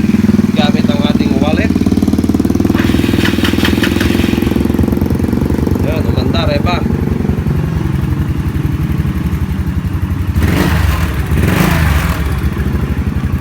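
A motorcycle fitted with a hazard light and anti-theft system runs loud and close with a steady, clattering engine drone. Short bursts of electronic beeping from the alarm system repeat over it several times.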